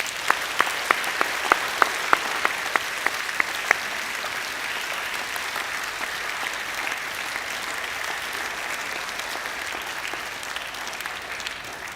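Audience at a school college assembly clapping for students, a few sharp individual claps standing out early over a steady, moderately distant wash of applause that continues evenly to the end.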